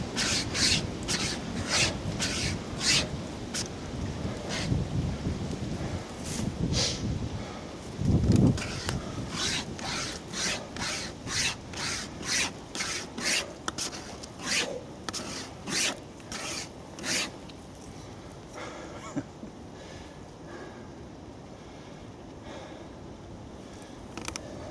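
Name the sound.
survival wire pocket saw cutting wood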